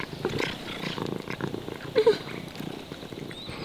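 Cat at the ancient city of Ephesus in Turkey, eating with soft, close smacking and chewing sounds, plus a brief purr-like murmur, in quiet outdoor surroundings.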